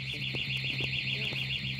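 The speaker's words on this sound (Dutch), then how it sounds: "Gaat ook nog eens het alarm af." A steady high-pitched electronic alarm sounds continuously, loud and unbroken, over faint background noise.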